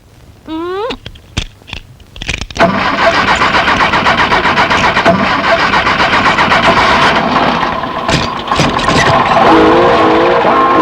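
A car engine cranks with a few stuttering turns, then catches and roars into a loud, steady run that keeps going until the end, with no talk over it.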